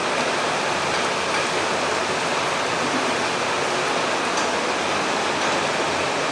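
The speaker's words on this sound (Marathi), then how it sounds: "त्या पत्र्यावरती जोर जोर असा पाऊस पडतो" Heavy rain drums on a metal sheet roof of a house in the Konkan, a dense, unbroken, hissing roar that stays loud and steady throughout, with no voices.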